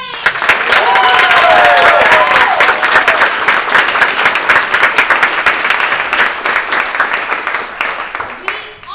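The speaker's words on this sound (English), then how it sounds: "help me thank them with a round of applause" Loud applause from a large theater audience after a staged reading of A Midsummer Night's Dream, dense clapping with scattered whoops, sustained before slowly tapering off.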